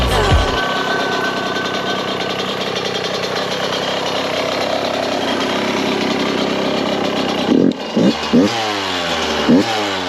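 Yamaha YZ125 two-stroke dirt bike being ridden, a loud close buzzing engine that holds steady then rises and falls in sharp revving surges near the end.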